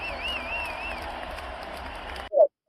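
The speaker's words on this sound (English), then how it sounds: "Let's clap it up for that shit." Studio audience applause on a podcast set, a steady dense clatter of many hands that cuts off abruptly, followed by one short loud burst alone.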